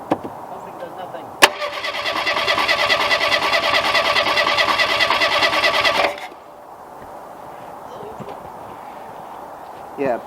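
A classic Ford Pinto engine cranks with a sharp bang, then roars loudly and steadily for several seconds before cutting out, leaving quieter background noise; people talk around it.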